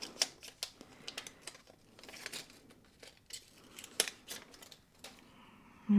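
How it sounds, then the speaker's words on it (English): Protective paper is peeled from a Fitbit Sense 2 smartwatch in soft gold, heard as a close, quiet run of crinkly tearing and scratchy rustles in uneven bursts. "So I'll go ahead and remove this little protective paper covering."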